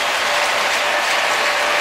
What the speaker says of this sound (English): You see the crowd here erupt and here erupt